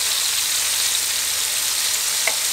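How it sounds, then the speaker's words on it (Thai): Hot oil sizzles and crackles steadily as fish pieces fry until golden and crisp, a continuous close-up hiss with a faint tap near the end. "ตอนนี้ผมทอดมาจนเหลืองกรอบ ประมาณนี้นะครับ"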